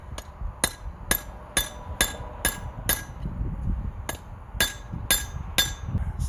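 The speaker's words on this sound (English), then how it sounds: "take this bull peen hammer and just make some divots" Ball peen hammer strikes making divots in a metal flower pot hanger, sharp ringing blows in an irregular series, about a dozen, with brief pauses and a short gap in the middle.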